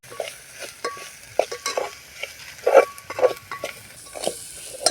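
Chili powder is stirred through a hot, sizzling pan for a vegetable bhaji, with soft irregular scrapes and bursts of frying crackle close by, no speech.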